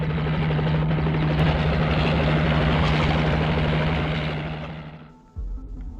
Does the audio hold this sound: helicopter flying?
yes